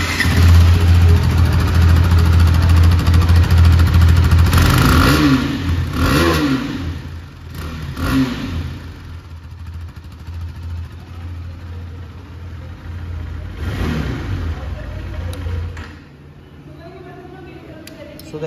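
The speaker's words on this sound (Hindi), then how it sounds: "तो मतलब अगर हम लोग हाई RPM पर देखें तो बहुत ज़बरदस्त एग्जॉस्ट नोट है" A 2022 KTM RC 390 motorcycle engine runs loud and close, its exhaust note rising and falling through several revs over a steady idle, with people talking over it.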